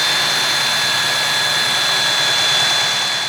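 A belt sander smooths the edges of a board for a large electric skateboard, a loud, steady high-pitched whine with a rushing abrasive hiss that runs without pause.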